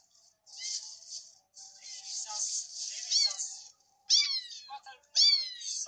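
A cat meows repeatedly, high and plaintive, with several drawn-out cries close by, separated by short pauses and a faint rattle.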